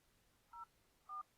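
Two short touchtone keypad beeps from a phone being used to enter a PIN for a dialer login, each a clean dual-tone chirp, evenly spaced and fairly quiet against a faint hiss.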